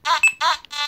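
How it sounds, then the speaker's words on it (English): Nokta Simplex metal detector giving its ground balance signal: two short loud electronic beeps in quick succession, followed by a third fainter tone, alone and close. "Once you hear that little beep, it's ground balance"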